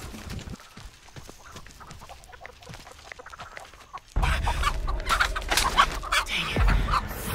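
Hens clucking in a Texas Chainsaw horror video game, with soft scattered clucks and rustles that turn into a louder, denser burst of clucking and flapping about halfway through.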